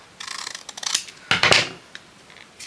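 Scissors snipping paper for a handmade journal topper, a few quick close-up cuts in two short bursts, the second louder, with brief handling noises after.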